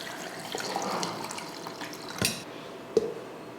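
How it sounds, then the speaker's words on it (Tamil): Water pours into a blender jar holding sugar and squeezed lemon while juice is being made, a soft steady liquid splash lasting a few seconds, fairly quiet, with a couple of brief clinks near the end and no talk. "இப்போ தண்ணி சேர்த்துருவோம்."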